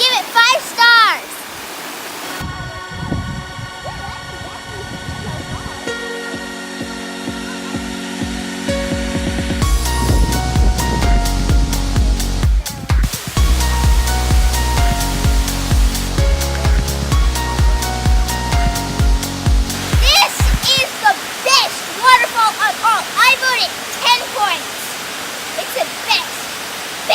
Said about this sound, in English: This is the biggest and best waterfall ever.